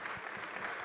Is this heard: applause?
yes